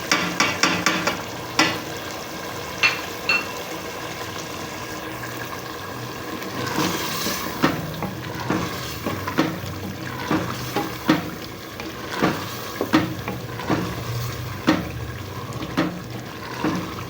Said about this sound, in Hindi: अब हम इसमें सारे मसाले ऐड करेंगे और अच्छे से इसको कर देंगे मिक्स।